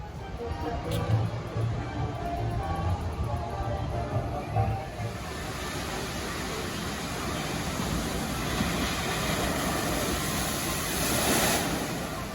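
Rushing water from the rapids water ride at Silver Dollar City, a steady, continuous roar with wind buffeting the microphone and faint background voices of the amusement park crowd.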